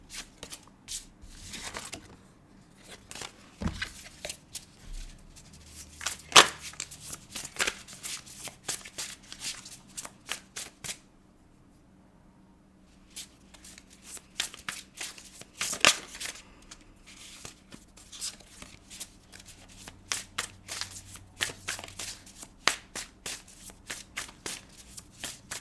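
Tarot cards shuffled by hand in close, repeated riffling bursts with short pauses between rounds, no one talking.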